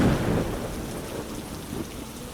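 Steady rain falls with deep rolling thunder rumbling loudly at the start, then the downpour continues alone as a dense, even hiss.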